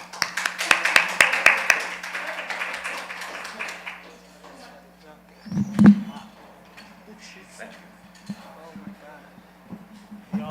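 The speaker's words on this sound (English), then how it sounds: "Let's clap him up." An audience at the Youth Huddle community meeting gives a short burst of clapping to welcome Brother Ernest Waters for his Black History Fact. The clapping is fairly close and dense for about two seconds, then fades into people talking over a steady low hum.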